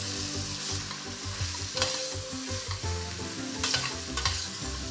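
Bacon lardons and vegetables frying in hot fat for a duck confit and cabbage soup, a loud steady sizzle close by, punctuated by clattering stirs of a utensil in the pot, with no talk.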